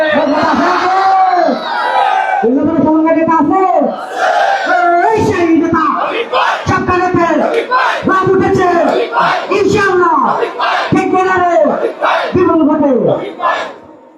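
A large crowd roars "Allahu Akbar" in unison, answering takbir calls at a village political meeting in Dubdanga, Bangladesh. Loud, close, forceful shouted chants repeat about every second or two, one after another.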